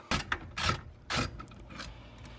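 Close metallic clicks and clunks from a wrench loosening the 12 mm bolts under the steering column of a Mazda FC RX-7, several short bursts of ratcheting in an irregular rhythm.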